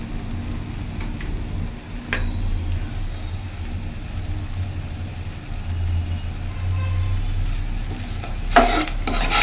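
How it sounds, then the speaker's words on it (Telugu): Spices frying in oil in a pan with salt and turmeric added, a soft steady sizzle with occasional stirring scrapes, close and moderate, with a brief louder scrape near the end. "సో ఇలా ఆయిల్లో కొంచెం ఫ్రై చేయండి."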